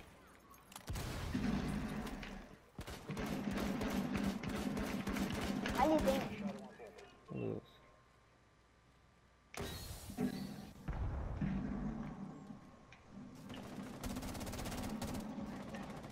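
Bursts of rapid game gunfire crackle loudly in several stretches, separated by brief pauses, with someone talking briefly over the action.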